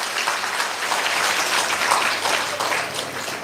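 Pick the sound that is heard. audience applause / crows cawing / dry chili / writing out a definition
audience applause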